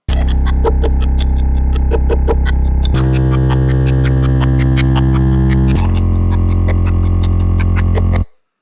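A raw, buzzing synth bass drones in sustained notes that shift pitch every few seconds, with a ticking beat on top, loud and unfiltered.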